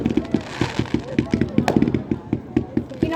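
Fireworks over a fishing marina give off a rapid, rattling crackle, a dense run of sharp, evenly spaced pops going on for several seconds, close and fairly loud.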